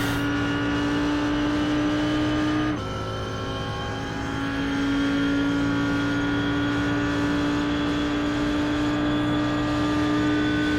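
An Audi R8 GT3 racing engine in the iRacing sim at Indy Road holds a steady, loud high-revving drone with harmonic whine, dipping briefly as the car lifts off the throttle before climbing back up, with no voices.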